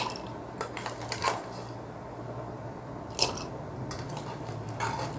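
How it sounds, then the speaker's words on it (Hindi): Ice cubes are dropped into two drinking glasses for masala soda shikanji, giving a few sharp clinks and clattering knocks spread out over a quiet kitchen hum, close and distinct, without voices. "सबसे पहले हम इसमें बर्फ़ शामिल करेंगे।"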